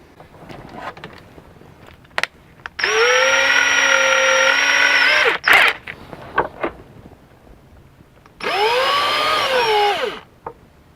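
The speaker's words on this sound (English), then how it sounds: "I'm just going to drill that out a little bit" A small power drill whines in two bursts while drilling out a screw hole in a handmade wooden wand, each spinning for a couple of seconds with a rising and falling motor pitch, separated by quiet handling clicks.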